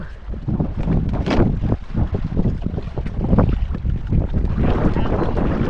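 Strong amihan northeast monsoon wind gusting over the open sea, roaring and buffeting the microphone in loud uneven surges with water noise beneath.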